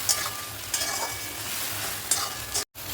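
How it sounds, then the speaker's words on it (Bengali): A masala of turmeric and chopped tomatoes fries in a pan while being stirred, with a steady close sizzle and periodic scraping strokes of the spoon, then a brief dropout near the end. "সব দিয়ে একসাথে আমি ভালো করে মশলাটা কষিয়ে নেবো।"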